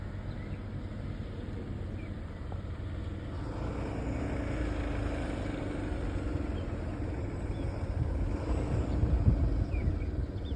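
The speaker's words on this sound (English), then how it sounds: "Pardon the traffic noise." Road traffic on a highway below the northeast side of the Koolau Mountains, a continuous low rumble of passing vehicles that swells gradually as a large one approaches close behind.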